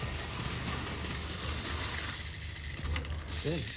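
A small electric toy train motor runs steadily on banked track, a continuous mechanical whir with a faint ratcheting clatter of gears, fairly quiet and unbroken, with a brief extra rattle near the end.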